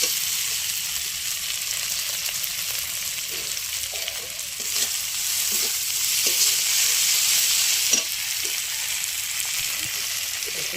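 Dried Bhola fish shutki fries in plenty of hot oil, a dense, steady sizzle and hiss with occasional stirring scrapes and light clinks throughout.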